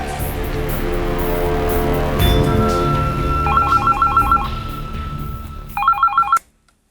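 A telephone rings in the background of a TV crime drama scene, with two bursts of electronic trilling set against a dramatic music score that cuts off abruptly at the end.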